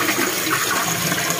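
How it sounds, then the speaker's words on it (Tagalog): A toilet flushing aboard a ship, a loud, steady rush of water that fills the whole moment at close range with no voices. "pag nag-flush ka, dito sa ihi, ito naman sa dumi."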